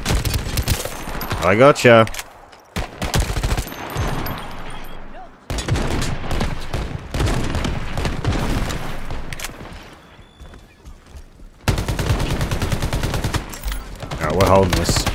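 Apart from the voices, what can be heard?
gunfire from SMGs in the video game Shatterline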